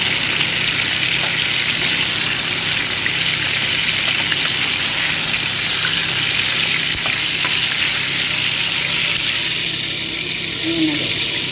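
Vegetables, likely potato, eggplant and tomato for a rice dish, frying in a pan with a steady close sizzle and crackle throughout, with occasional stirring and faint background noise.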